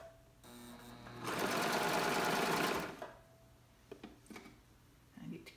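A home sewing machine stitching a fabric seam runs in a steady, fast mechanical whir for about two seconds, close and fairly loud, preceded and followed by quieter handling clicks and rustles.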